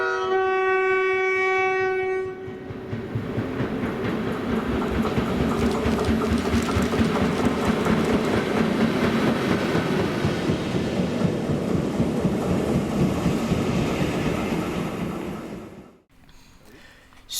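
A heavy Class 90 electric freight locomotive rumbles past nearby in Scotland, a loud sustained roar of engine and wheels with a horn-like tone at the start, fading out abruptly near the end.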